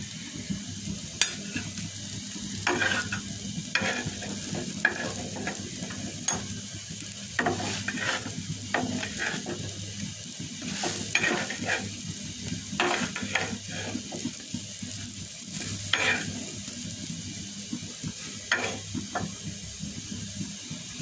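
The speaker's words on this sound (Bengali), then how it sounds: "এগুলোকে ফ্রাই করে নেব" Eggplant slices fry in oil in a pan with a steady soft sizzle, broken by frequent sharp clacks and scrapes of a utensil against the pan.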